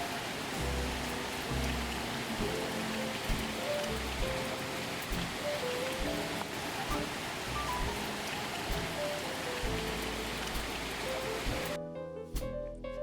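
Heavy rain pours down outdoors in a steady, dense hiss that holds level for about twelve seconds before thinning abruptly near the end, with no voices.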